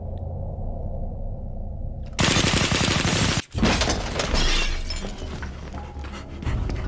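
Gunfire in a scene from the 1994 film Léon: The Professional: a sudden loud, dense burst of shots and shattering erupts after a low rumbling lead-in, cuts out briefly, then resumes as sustained roaring noise.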